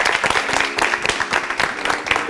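Applause and clapping from a school audience during a live show with students of a secondary school, dense and steady for about two seconds, with faint voices mixed in.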